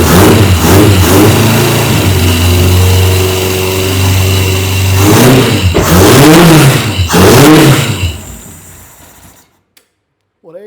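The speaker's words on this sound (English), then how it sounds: "let's see if she'll fire up again" An abandoned kit car, left sitting for 24 years, cranks and fires up, its engine revving loudly in repeated surges before cutting out into silence.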